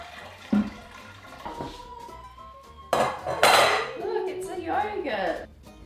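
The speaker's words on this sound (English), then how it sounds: "Just sterilize with some hot water." Hot water runs and splashes over utensils being sterilised for homemade dairy making, with clinks and clatters of metal and dishes and a gushing surge partway through.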